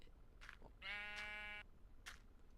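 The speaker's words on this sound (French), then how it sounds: "Pleure pas le mouton, ça arrive." Sheep in the video game Minecraft giving one clear, wavering bleat of about a second, set between soft crunchy in-game footstep sounds, quiet overall.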